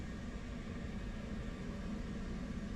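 F/A-18 Hornet engine cranking in DCS World, a constant dense mechanical roar with deep rumble and broadband hiss, steady and unbroken with no one talking.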